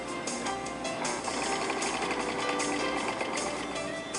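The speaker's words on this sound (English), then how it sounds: "Then serge the fabric." A serger sewing machine stitches fabric in a steady, dense mechanical whir with a fast rattling pulse, running continuously and loud at close range.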